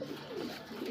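Caged Delish-breed pigeons give a brief, soft, close cooing with low throaty warbles and no talking.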